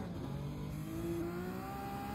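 Lamborghini V12 Vision GT engine in Gran Turismo 7, a faint, steady drone that climbs gradually in pitch as the car accelerates.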